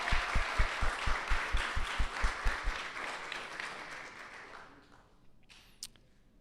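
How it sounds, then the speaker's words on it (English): Audience applause at a senior celebration event, steady clapping from a crowd with rhythmic thumps early on, gradually fading out over several seconds. "So once again, we applaud you,"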